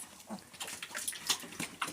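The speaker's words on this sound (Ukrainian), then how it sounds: "Свинка гарно їсть." Piglets on a home farm eating from a trough, quick wet slurping and snuffling with soft grunts, close and fairly quiet.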